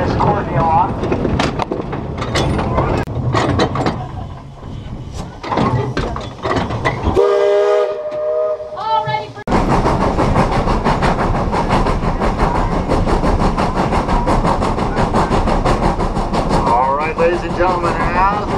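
A Cripple Creek and Victor narrow gauge train rolls along with rhythmic wheel clatter and loud horn or whistle blasts, close and continuous, while a tour narrator talks over the noise.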